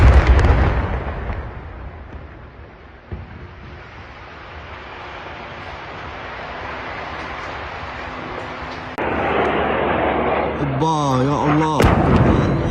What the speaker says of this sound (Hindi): قصف يا جماعة الآن.